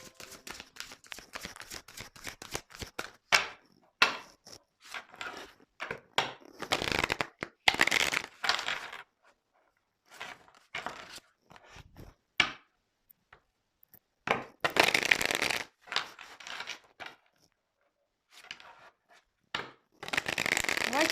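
Tarot cards shuffled for a card reading, repeated bursts of papery riffling and rubbing that come and go in irregular clusters with brief quiet gaps, close and fairly loud.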